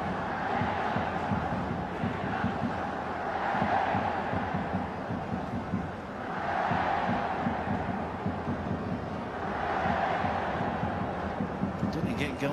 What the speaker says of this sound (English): the crowd are enjoying the thrill of the penalty shootout